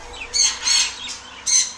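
Pet budgerigars kept for breeding give out four sharp, high squawks in about two seconds, one softer than the rest, loud and close with no talking.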